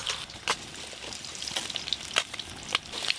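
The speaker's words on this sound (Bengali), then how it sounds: "ডিমগুলো বেশ ভালো করে ভাজা ভাজা হয়ে গেল।" Eggs frying in oil in a pan for a Bengali egg curry, a steady hiss with occasional sharper crackles and pops, fairly soft and close, with no talking.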